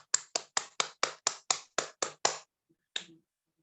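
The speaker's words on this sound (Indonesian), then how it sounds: "kita kasih aplaus sebentar" Short applause for church service volunteers: about ten sharp, evenly spaced claps in quick rhythm, close and clear, then a pause and one last clap.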